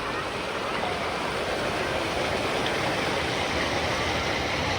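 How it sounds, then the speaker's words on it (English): A steady, dense roar of rushing water pours without pause, broad and loud like a nearby waterfall, at a water park. "Waterfall."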